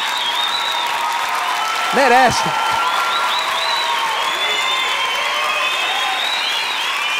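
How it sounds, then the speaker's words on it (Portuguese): Audience applause fills the whole clip at steady strength in response to forced puns at a comedy show, with a brief spoken voice cutting in near the start. "Mais aplausos em pé por esses trocadilhos"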